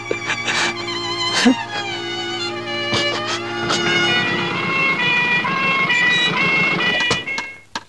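An ambulance siren wails in a Tamil film climax scene, its tones rising and steady amid dramatic music and sharp hits, loud and close for several seconds.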